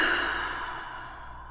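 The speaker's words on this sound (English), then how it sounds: "one way to do that is just take a deep breath" A single deep breath, a long soft sigh-like exhale, close and alone, fading gradually over about a second and a half.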